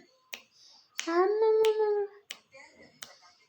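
Sharp finger snaps ring out near a three-month-old baby, five crisp clicks spaced unevenly, with a sustained vocal sound from a person in between.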